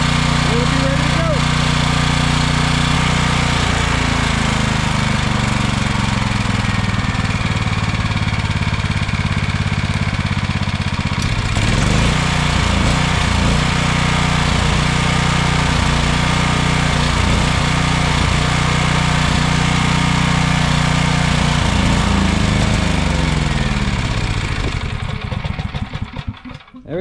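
A portable generator engine runs steadily and loudly close by, its note wavering and surging midway as the fuel runs low, until it sputters and cuts out at the end; someone talks briefly over it.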